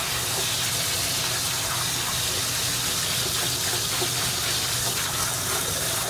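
Very hot water mixed with Scrub Free cleaner gushes in a steady, loud, unbroken stream while grimy parts of a Eureka Victory vacuum are cleaned; no one speaks.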